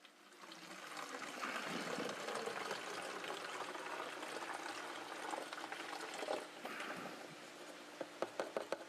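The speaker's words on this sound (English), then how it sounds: "Pour the water in." Water pours steadily into a jug with crystals at the bottom, a continuous gurgling, splashing rush at close range that lasts the whole time, with small knocks near the end.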